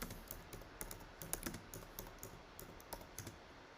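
Typing on a computer keyboard, a quick irregular run of soft close key clicks with no talk.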